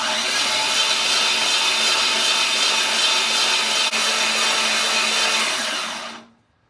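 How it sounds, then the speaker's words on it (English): A GM LS 4.8 V8 engine with oil pressure sender fitted spins over steadily on its starter, a continuous loud whirring drone that holds for about six seconds and then cuts off. "Let's just spin it over till we see oil out of one of the rockers."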